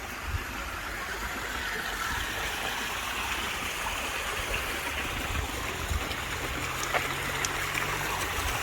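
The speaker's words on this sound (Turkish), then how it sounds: "Böyle şelale de var." A waterfall rushes in a dense, continuous roar at steady loudness through the whole stretch. It is an outdoor spot on a road trip in Turkey, with no talk.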